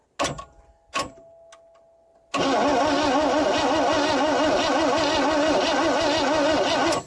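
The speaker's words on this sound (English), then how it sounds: "I'm going to try the old screwdriver trick on the starter solenoid, see what that does." A 1965 AMC Rambler American 330 has its starter solenoid jumped with a screwdriver, giving two sharp clicks, then the starter cranks loudly and steadily with a rapid rhythmic churn for nearly five seconds.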